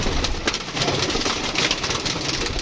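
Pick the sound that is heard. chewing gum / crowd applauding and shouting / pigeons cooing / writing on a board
pigeons cooing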